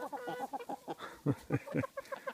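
Several chickens cluck and murmur close by, a busy run of short, throaty calls with a few louder squawks.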